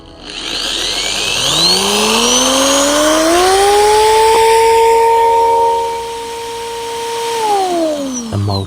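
A power drill spins a small electric motor up to maximum speed: a whining tone climbs steadily, holds a loud, even pitch for several seconds, then dips briefly near the end.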